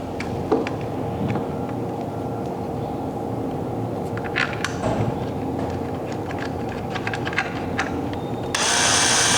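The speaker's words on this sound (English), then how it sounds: "these are M4 metric screws. We're going to install those." M4 metric screws going into a kayak motor mount, with scattered clicks, ratcheting and short mechanical taps close by, then a louder broadband whir near the end, all without speech.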